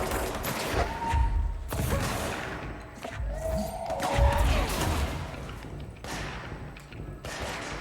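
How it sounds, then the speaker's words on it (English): Enemy shotgun blasts in the action game Control land as repeated heavy booming shots and thuds amid dense combat noise, loud and close, with a few brief pauses between volleys. "Goddamn shotguns."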